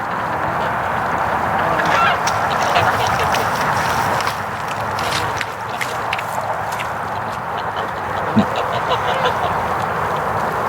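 A flock of geese honking over a steady outdoor background, with overlapping calls rising and falling throughout and a stronger burst near the end.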